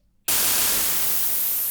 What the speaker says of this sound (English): quite a strange kind of white noise